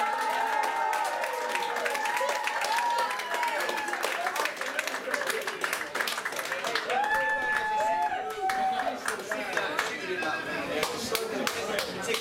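Audience applause at a leaving quiz, a steady wash of clapping filling the room over roughly twelve seconds, with voices and whoops rising over it.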